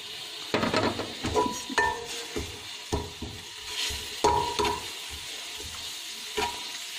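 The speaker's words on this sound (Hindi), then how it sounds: "अब इसे मैं से 2 से 3 मिनट के लिए भूनूंगी" Crushed onion, ginger and garlic frying in a pan, giving a close sizzle with repeated stirring scrapes and a few sharp utensil knocks against the pan at irregular intervals, with no voices.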